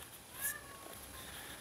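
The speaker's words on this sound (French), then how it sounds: "Ça miaule derrière, je ne sais pas pourquoi." A cat meows softly in the background of an indoor room, a brief, faint call with a couple of short tonal cries over low ambient noise.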